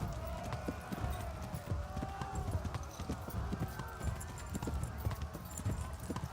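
Horse hooves clatter in a steady galloping rhythm in the video game Kingdom Come Deliverance, close and continuous, with a voice shouting over the hoofbeats.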